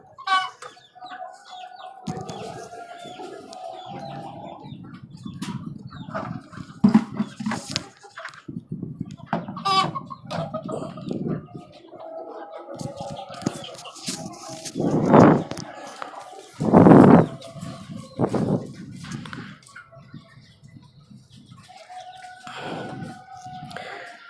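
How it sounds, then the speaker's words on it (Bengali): Chickens on a rooftop poultry farm atop a five-storey building cluck and squawk in repeated nearby bursts, some loud, with a voice talking in between. "নতুন মুরগিটা"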